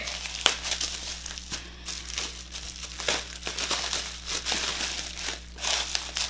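Packaging being torn open during a beauty product unboxing, close-up crinkling and ripping of paper or plastic in irregular bursts, fairly loud and without speech.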